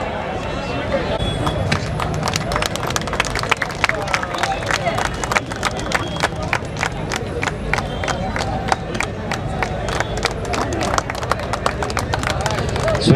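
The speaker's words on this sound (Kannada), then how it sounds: "ಜೋರದ ಚಪ್ಪಾಳೆ ಬರಲಿ ಅವ್ರಿಗೆ" An audience at a felicitation ceremony in Raichur applauds a student who topped the state in SSLC, with dense, continuous clapping and crowd noise that go on throughout under loud talk.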